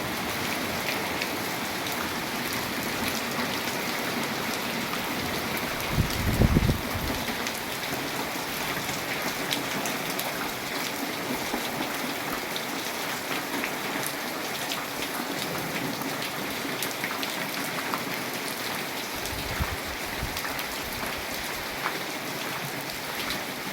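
Heavy unseasonal rain on farmland pours steadily throughout, with a couple of brief low rumbles that could be distant thunder beneath the constant downpour.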